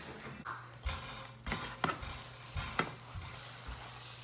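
Omelette cooking in a pan: a soft, steady sizzle with scattered light taps and scrapes, quiet and close, with no talk.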